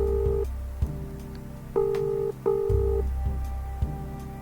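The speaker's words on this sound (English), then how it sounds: "Ringing for a long time." A telephone ring tone repeats in steady pulses with short pauses, heard alone with no voices.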